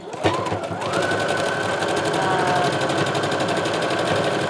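Sewing machine stitching through fabric scraps, a steady rapid mechanical whir running continuously and close, with no talk over it.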